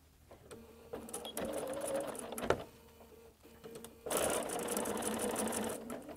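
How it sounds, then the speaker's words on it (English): Sewing machine stitching fabric for a no-zipper case, a rapid mechanical needle chatter running in two bursts with a pause between, close and fairly loud, with faint clicks and no clear speech. "And continue sewing and just gradually move this around."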